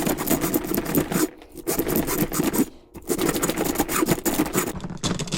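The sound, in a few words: cutting through hand mixer copper wiring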